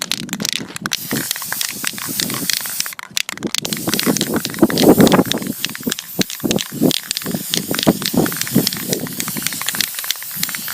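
A spray paint can hisses in steady bursts outdoors on a windy day while coating a homemade cardboard dinosaur model, with brief pauses between the loud sprays.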